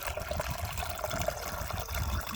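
Liquid trickles and dribbles steadily, a soft continuous pour of cherry juice and water being drained from a jar, close by with no talking.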